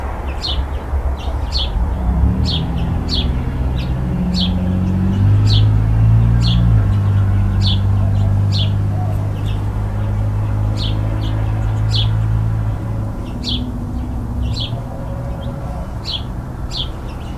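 Backyard birds chirp in short, repeated high calls around a swinging bird feeder, steady and fairly near over a low wind rumble.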